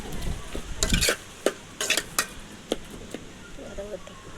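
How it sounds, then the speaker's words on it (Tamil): Tomatoes sauté in a pan for fish curry as a ladle stirs and scrapes them, with sharp clanks and scraping strokes over a faint sizzle and a brief soft voice near the end. "தக்காளி நல்லா வதக்கி விட நம்ம வந்து கரண்டியை வச்சு நல்லா வந்து நச்சு விட்டால் தான் அது நல்லா வதங்கும்."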